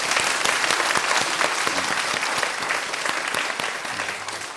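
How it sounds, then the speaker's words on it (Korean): An Easter Sunday church congregation claps in a dense, continuous round of applause that tapers off slightly toward the end. "우리 다음 세대 격려하는 박수를 좀 오늘 했으면 좋겠습니다."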